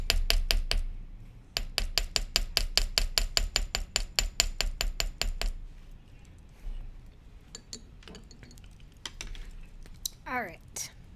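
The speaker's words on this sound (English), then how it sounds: "you can really get in there and hammer very accurately" A quick, steady run of sharp metallic hammer taps on wire, around twenty strikes close by, then a few scattered knocks and a brief soft voice.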